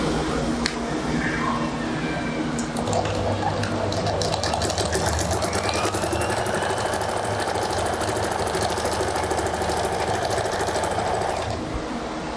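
A sewing machine runs steadily while stitching trousers, its rapid, close motor hum and needle clatter continuous and fairly loud, with a brief pause near the end.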